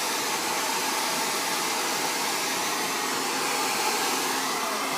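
A hair dryer blows steadily while hair is being blow-dried, a loud, constant whooshing roar with a faint motor whine, running without a break and with no talking.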